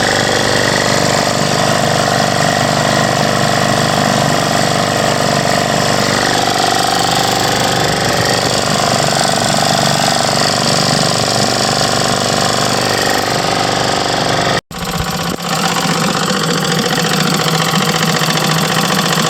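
A 1939 Bendix Eclipse air-cooled engine idles steadily and loudly up close, a continuous rough mechanical drone with a brief dropout near the end.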